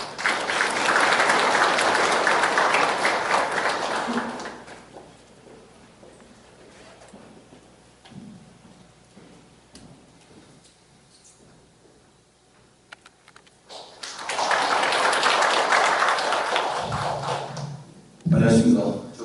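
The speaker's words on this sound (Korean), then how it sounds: "박수 부탁드립니다." Seminar audience applauding in a hall, a loud burst of clapping that fades out, then a quieter stretch with faint voices, before a second round of applause swells up near the end.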